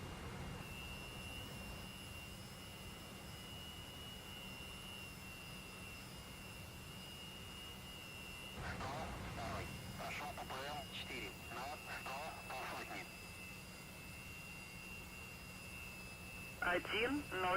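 A Su-33 Flanker jet engine in the DCS flight simulator whines on the runway before takeoff, a steady high-pitched hum under bursts of radio chatter.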